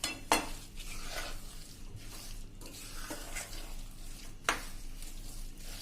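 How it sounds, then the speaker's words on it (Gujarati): Adadiya pulp being mixed and roasted in a hot pan, with faint scraping and stirring, soft sizzling and occasional clinks of a utensil against the pan, quiet and close. "હવે આ બધું આપણે સરસ મિક્સ કરી લેશું મિત્રો"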